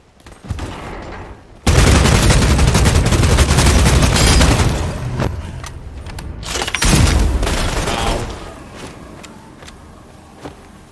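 Loud sustained gunfire bursts in the Bloodhunt video game, dense rapid fire with booms that starts abruptly, runs for several seconds, then trails into scattered shots and quieter background.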